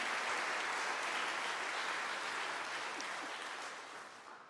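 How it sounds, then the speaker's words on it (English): Steady concert crowd applause, a dense wash of clapping that slowly fades toward the end. "let's give them a round of applause"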